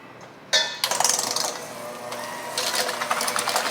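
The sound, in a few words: electric mixer mixing cream cheese cheesecake filling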